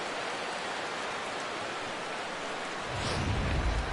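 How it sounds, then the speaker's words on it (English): Steady rain falls in the baseball video game MLB The Show 17, a dense, even hiss that swells into a deeper rumble near the end, with no talk over it. "And Dan, when it comes to pitching in the rain, what changes?"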